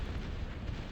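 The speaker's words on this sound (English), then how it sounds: "missiles and cannons and shells" Missiles and shells exploding during a Total Annihilation real-time strategy battle, heard as a dense, continuous rumble of overlapping blasts with a deep, heavy low end and no pauses.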